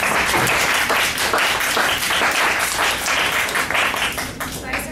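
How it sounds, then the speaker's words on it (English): A seminar audience at a young entrepreneurs' financial-plan session gives a big round of applause for the speakers, dense, even clapping from a room full of people that stays loud throughout. "One more big round of applause for your"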